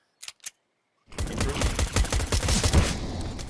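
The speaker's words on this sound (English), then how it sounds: "So much damage, and Zoots through the smoke with a headshot" Counter-Strike gunfire, including a headshot through smoke: two faint clicks, then a sudden, dense burst of rapid gunshots that continues loudly to the end.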